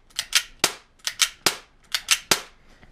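Gas blowback airsoft pistol firing its final rounds: about ten sharp, close cracks in quick uneven bursts of two or three, each with a short bright snap, and no talk.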